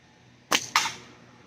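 A Fowler Hornet slingshot is fired, giving two sharp snapping cracks in quick succession, close and loud, with a short fading tail after each.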